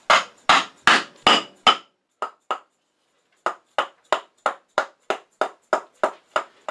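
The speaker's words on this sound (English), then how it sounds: "I'm going to use a mallet." A mallet pounds a metal ferrule onto a wooden woodturning tool handle in about eighteen sharp, ringing blows. They fall in two quick runs with a short pause between, nearby and with no voices.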